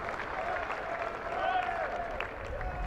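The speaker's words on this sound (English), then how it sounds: "it's the reason for the smattering of applause" Light, scattered clapping from a sparse crowd at a County Championship cricket match between Surrey and Yorkshire, a steady soft patter under a commentator's voice, with no loud swell.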